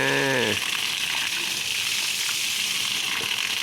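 Water gushing and splashing during a bath, a steady rushing pour right after a short tonal call at the start, continuing close and even to the end.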